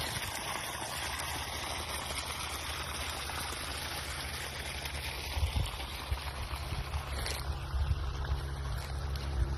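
A water pump gushes a strong spray of water onto a road beside a banana and papaya orchard, a continuous rushing hiss with low engine rumble beneath, faint overall.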